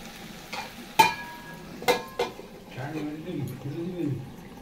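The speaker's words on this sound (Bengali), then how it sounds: "এবার আমি আর একটু কষিয়ে নেব, এই কারণ টমেটোটা সেদ্ধ দিলাম আর হলুদ দিয়েছি" Chicken with tomato and turmeric is stirred in a pan, with a few sharp utensil knocks against the metal followed by soft scraping and a low sizzle while someone talks.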